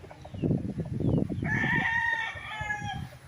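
A rooster crows at a game fowl farm in Pagsanjan, Laguna, one long loud crow rising out of nearby clucking and rustling from other chickens, close by and with no talk.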